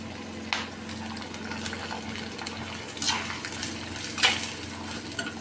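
Garlic and onions sauté in a pan with a steady, close sizzle, broken by a few louder stirring scrapes. No one speaks.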